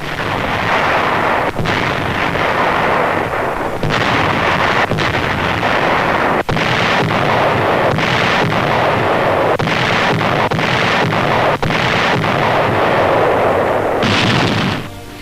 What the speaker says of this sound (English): Strategic airfields are the objectives as the great fleet's guns open up.